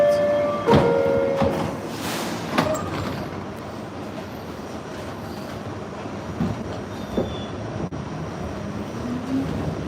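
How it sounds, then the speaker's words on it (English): A D train subway car in motion gives a steady rumbling roar with wheel clatter and a few sharp metallic squeals near the start, continuous and close throughout. "I'm taking the D train, And it's very uncomfortable too."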